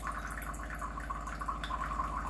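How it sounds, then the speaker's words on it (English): Water from an NF and RO alkaline water purifier runs steadily into a glass, a soft continuous trickle with faint splashing, heard close and fairly quiet with no talking. "Now I am going to collect another glass of water"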